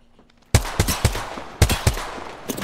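Gunfire in Apex Legends: a burst of sharp, loud shots in uneven clusters, closely spaced hits with brief gaps, starting abruptly after a quiet moment.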